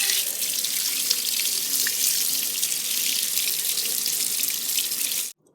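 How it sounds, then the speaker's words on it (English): A steady hiss of running tap water pours over a fidget toy being rinsed in a sink, close and continuous for about five seconds before the flow cuts off abruptly. "I'm gonna rinse it."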